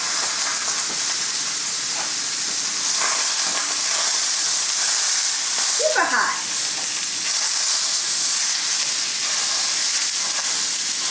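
Meat browns in a pan for Southern-style gluten-free biscuits and gravy, giving a steady, close sizzle and hiss throughout, with a brief louder crackle partway through.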